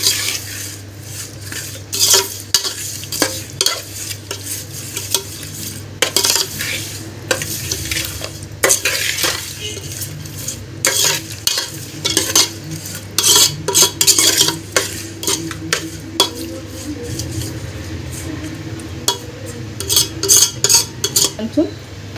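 Marinated chicken biryani ingredients, with fried cinnamon, cloves and cardamom, are stirred in a pot. A spoon scrapes and clinks against the metal in irregular close bursts over a low, soft sizzle.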